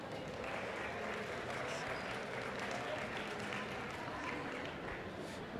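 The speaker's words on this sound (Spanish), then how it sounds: "Un aplauso, por favor." A conference audience at a CPMX7 marketing talk applauds as two presenters are introduced, a thick, continuous wash of many hands clapping at moderate distance, holding steady throughout.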